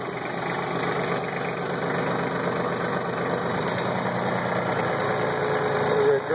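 A heavy Kubota tractor engine idles with a steady low knocking rhythm, close and constant, no other sounds standing out.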